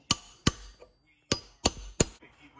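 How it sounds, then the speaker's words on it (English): Five sharp metallic hammer strikes on a truck's intermediate shaft u-joint, close and loud, arriving in irregular pairs and singles with short ringing decays. "I whacked the camera with the hammer."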